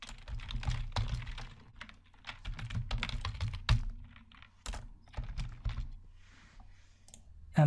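Python code typed on a computer keyboard, quick irregular bursts of close key clicks with short pauses between words.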